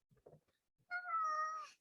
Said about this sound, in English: With my cat meow sitting in my lap